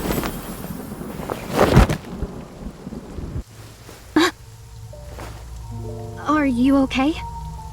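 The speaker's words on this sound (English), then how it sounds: "Here comes the downpour." A heavy rain downpour roars loudly with rumbling thunder for the first few seconds, then drops to a quieter background as people talk.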